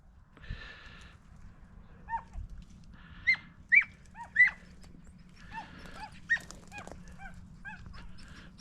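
Hunting dogs on a rabbit chase in California bark and yelp intermittently at middle distance, several sharp calls scattered over a faint outdoor background hum.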